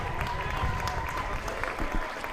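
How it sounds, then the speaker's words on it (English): Crowd applause from both sides at a men's reserve cup rugby final, steady clapping at moderate distance under a commentator talking over it. "Well, great noise, great applause"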